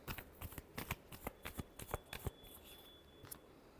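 Tarot cards being shuffled by hand, a quick run of crisp riffling snaps and flutters close up, repeating in bursts and then trailing off, with a faint steady tone in the background.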